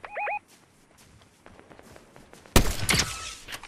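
In a shooter video game, a loud sniper rifle shot cracks out near the end after a quiet stretch of faint clicks and footsteps, following a short tonal game chirp at the start.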